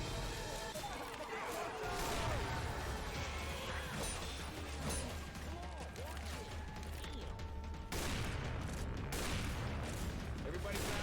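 Left 4 Dead 2 gameplay: rapid bursts of gunfire and mechanical weapon clatter with crashing impacts, a dense chaotic mix that continues under game voices.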